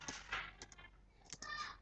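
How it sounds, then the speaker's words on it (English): Quiet clicks of keys being typed on a computer keyboard, a few irregular taps with short pauses, close and faint, no talking. "I'll just type..."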